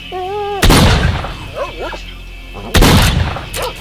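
Two loud shotgun blasts of buckshot in the Stalker video game, the first near 0.6 s and the second near 2.8 s, each a sharp boom with a ringing tail, separated by quieter in-game noises and a faint voice.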